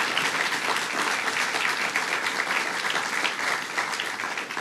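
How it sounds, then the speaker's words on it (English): An audience at a bill-signing event applauds the county executive, a dense, steady burst of clapping from a crowd lasting throughout at even loudness. "Give him a big round of applause, County Executive Steve Bellone."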